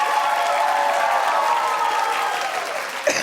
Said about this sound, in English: Clap if you just want them all to go away.